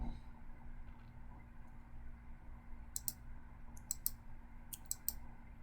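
Computer mouse clicks sound faintly over a low steady room hum, coming in small quick clusters of two or three crisp clicks spaced about a second apart.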